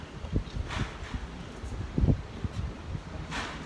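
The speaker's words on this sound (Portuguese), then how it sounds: "Olha como tá ventando forte." Gusty wind buffets the microphone in low, rumbling bursts, with a faint rustle between the louder gusts.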